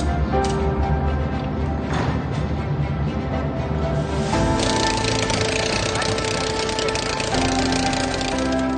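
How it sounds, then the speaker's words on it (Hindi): Loud, continuous machine drilling rings through a tunnel of the Khewra salt mine, a steady, dense hammering rattle that fills the whole stretch, with voices mixed in. "सर अभी इन्होंने ड्रिलिंग की है"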